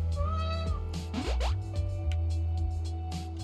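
Cat meowing in the video game A Space for the Unbound, a couple of short close meows over soft background music, with faint drips.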